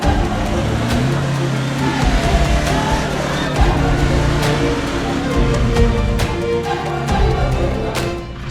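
An off-road vehicle on CST Sahara ATM all-terrain tyres rolls steadily along a road, a continuous close engine and tyre rumble with occasional knocks and bumps and no talking.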